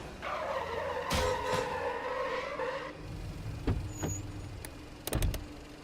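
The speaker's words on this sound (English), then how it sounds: "You really feel like you're a car crashing into the boundaries of a road incessantly" A car in the game Wheels of Aurelia skids with a long wavering tyre screech, then bumps and scrapes against the road boundaries in a few sharp knocks and clatters near the end.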